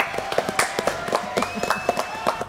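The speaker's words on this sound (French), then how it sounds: "Applaudissements pour Alex." A small studio audience applauds guest Alex with scattered, irregular hand claps that sound sharp and close, while a faint sustained tone hums beneath.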